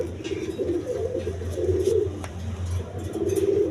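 Quality pigeons kept in pairs, including crested males, uncrested females and an orange pair, cooing in low rolling phrases repeated over several seconds against steady background hum, with no talk.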